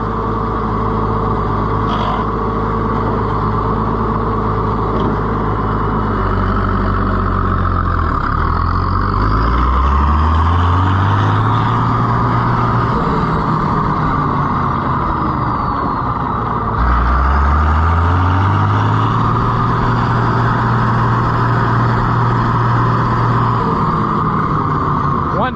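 An Allis-Chalmers 200 tractor engine runs loud and close, a steady droning rumble with two rising revs as it pulls, with someone talking over it.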